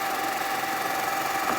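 An Ecovacs DEEBOT T30S robot vacuum drives back to its base station with a steady, even motor whir and a faint constant tone, close by and unchanging, with no voices.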